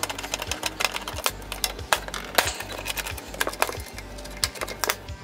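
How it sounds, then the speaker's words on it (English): A driver bit backs Phillips screws out of a bracket during a Toyota MR2 Link G4X ECU install, making a busy stream of sharp ratcheting clicks and taps, close and fairly loud with no talking. "Some more Phillips screw fun."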